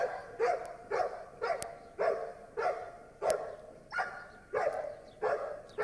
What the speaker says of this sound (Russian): Собака сразу начинает облаивание.